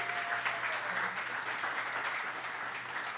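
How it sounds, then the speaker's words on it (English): Audience applause at a live coach's show held at a Chicken N Pickle venue, a continuous even wash of clapping from a sizable crowd, fairly distant and without speech. "Just a round of applause."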